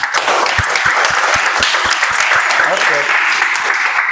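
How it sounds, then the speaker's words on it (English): Energetic applause fills a Toastmasters meeting room, loud and continuous, with distinct close hand claps punctuating the crowd noise and a voice speaking briefly near the end. "With full energy, guys. Let's have a huge round of applause."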